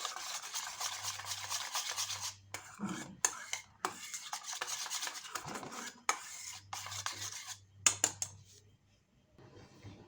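A spoon stirs and scrapes through a rice-starch batter with salt for papad in a bowl, a continuous close scraping rub broken by a few short pauses and soft knocks, moderately quiet with no speech.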